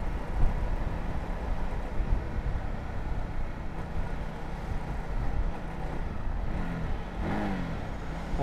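A Honda CBR150RR motorcycle engine revs hard during a ride, its rough roar mixed with heavy wind buffeting on the microphone, rising near the end.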